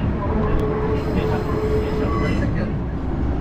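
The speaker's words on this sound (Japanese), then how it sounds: "さあということで JR 立野駅のホームに入線でございます。" Minami Aso Railway train entering the JR platform at Tateno station, rolling in with a steady, loud rumble of wheels on rails and faint higher squeals, under a voice speaking.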